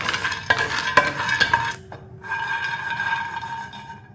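Fifty grams of almonds are dry-roasted in a kadai, stirred with a spoon that rattles and scrapes against the metal in a few sharp strokes, then a softer settling rustle.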